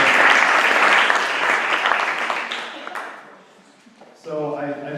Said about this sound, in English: Let's do another round of applause for all the other speakers today